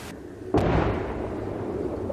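A single loud, sharp artillery shell blast bursts out after a moment of low rumble during shelling in Avdiivka, followed by a long rolling roar that slowly fades.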